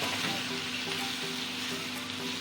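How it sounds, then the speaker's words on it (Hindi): Beef pieces frying in hot oil for rogni beef, a loud, dense, continuous sizzle close up with no voices. "ये देखिए, इसको भून रहे हैं ऑयल के अंदर"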